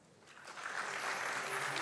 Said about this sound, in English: please welcome them with a warm round of applause